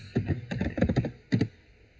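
Keys clatter on a computer keyboard as a web address is typed into a browser, quick bursts of clicks in uneven clusters with a short pause before a final pair of strokes.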